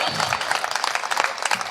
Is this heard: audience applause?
yes